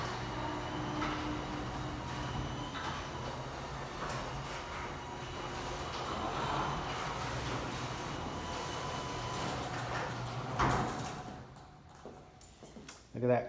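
A push-button garage door opener at a third-car garage of a West Texas house drones with a steady motor rumble for about ten seconds, ending in a clunk before things go quieter, with people talking faintly.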